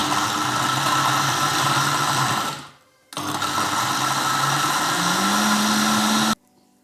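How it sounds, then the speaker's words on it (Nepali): An electric blender whirs loudly while blending a banana and avocado smoothie with yogurt and honey, running in two steady bursts separated by a short pause, its pitch rising slightly near the end before it cuts off. "ब्लेन्ड गरौँ है त"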